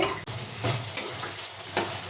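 Potatoes and a spoonful of sesame seeds frying in a pan for aloo capsicum masala curry, bursts of crackling sizzle rising and falling as the pan is stirred, close and moderately loud with no speech.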